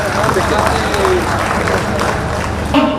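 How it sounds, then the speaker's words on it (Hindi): Crowd applause greeting India's Prime Minister at the Deoghar airport welcome ceremony, a dense steady patter of many hands held at an even level throughout, with a murmur of crowd voices mixed in. "माननीय प्रधानमंत्री जी आप सबकी तरफ से जोरदार तालियां"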